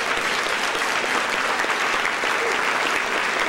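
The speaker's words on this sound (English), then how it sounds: "So please, in chorus, give them a round of applause because they're the ones we're here for tonight." A large audience at a Rock and Roll Hall of Fame keynote bursts into sustained applause for the inductees, a dense, steady roar of clapping hands that holds at full strength throughout without any voices over it.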